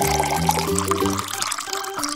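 Water poured into a bowl holding flour, salt and yeast for pizza dough, a short gurgling pour with a rising pitch as the bowl fills, close and alone.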